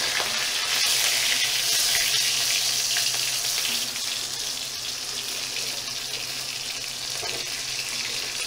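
Pumpkin flower fritters sputter and sizzle in very hot oil, a loud, steady, dense crackling hiss held close throughout with no talk.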